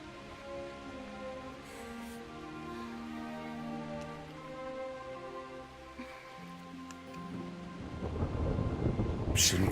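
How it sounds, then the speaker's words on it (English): A thunderstorm with rain in the medieval game Kingdom Come Deliverance: steady rain under low rumbling tones, swelling into a loud, close thunder crash near the end. "Not afraid of thunderstorms, are you?"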